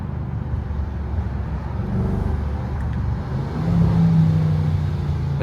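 Supercharged V8 engine of a Range Rover while driving, a low rumbling drone with road noise that swells as it accelerates near the end, heard from inside the cabin without talking.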